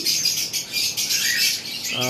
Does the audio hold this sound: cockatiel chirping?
yes